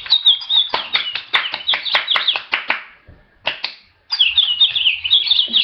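Two small pet birds chirp and sing close by in quick, bright, repeated bursts with sharp trills, pausing briefly midway before starting up again.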